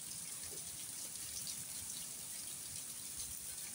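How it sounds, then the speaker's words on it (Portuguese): A small waterfall inside a damp tunnel gives a faint, steady gush and splash of running water, soft and even throughout, with no speech. "Ficando muito na umidade. A cachoeirinha."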